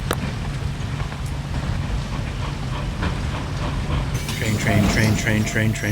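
Mine train ride in the Nancy Drew computer game Secret of the Old Clock: a steady low rumble with rhythmic clatter throughout, building to a brighter, louder rattling stretch near the end, with occasional voice underneath.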